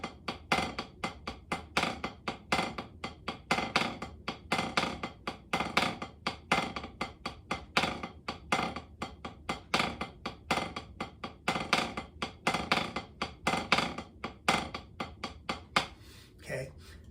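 A snare drum buzz-stroke exercise, number 4 of an accent and buzz lesson, with buzz rolls traded between each hand: a steady, fast stream of short pressed rolls and taps, close and alone, with no talking.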